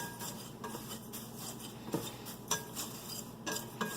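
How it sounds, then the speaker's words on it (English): Black pepper seasoning whisked together in a bowl, quick rhythmic clinks and scrapes of a utensil against the dish, close and fairly quiet, without talk. "And then whisk it together."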